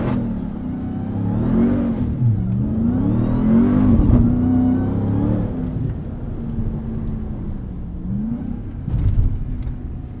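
A 2021 Ram 1500 TRX pickup in Baja mode roars across sand dunes, its engine revving up and down through gear changes with sustained loud growling and surges, close and without talking.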